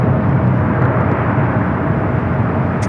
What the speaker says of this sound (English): 777 freighter touching down to 25 on the left